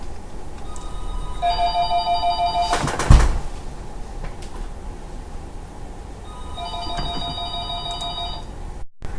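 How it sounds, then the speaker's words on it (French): A telephone rings indoors with an electronic tone in two separate bursts a few seconds apart, over steady room noise and a brief clunk between them. "Désolé pour le téléphone"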